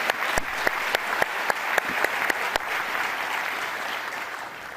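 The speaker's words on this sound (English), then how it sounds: "please join me in a round of applause for our directors" A meeting audience applauds its company directors at a utility firm's annual shareholder meeting, a steady wash of many hands clapping with a few sharper individual claps standing out early, then gradually thinning and fading toward the end.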